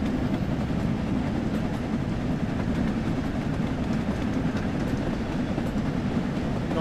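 A green locomotive in Train Sim World 3 rumbles along steadily, a continuous low, dense rolling drone with faint rail clatter, close and consistent throughout, no voices.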